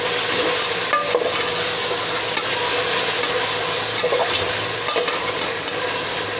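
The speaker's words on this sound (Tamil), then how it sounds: "இப்போது நம்ம வந்து நறுக்கி வச்சுருக்க தக்காளி இதில் சேர்த்துக்கலாம்." Chopped tomatoes go into ginger-garlic masala frying in a pan for vegetable biryani and are stirred, giving a steady broadband sizzle with several sharp scraping knocks of the spoon throughout.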